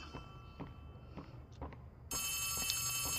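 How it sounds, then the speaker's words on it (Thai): A telephone rings in the video game Poppy Playtime Chapter 3. Footsteps tap through a quiet room, and then a loud, steady electronic ring starts suddenly and keeps going. "ได้ยินเสียงโทรศัพท์ นี่ไงห้องขวามือนี่"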